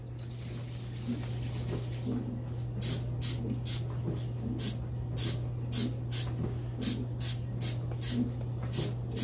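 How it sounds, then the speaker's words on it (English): Repeated short bursts of cooking spray hissing onto skull-shaped pizzas, quick and close, in an irregular rhythm over a steady low electrical hum. "Take your cooking spray."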